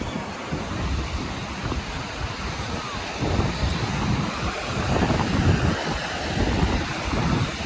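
Sea waves wash steadily along the Karachi shore where sewage water runs into the sea, a broad surging roar with gusts of wind buffeting the microphone throughout.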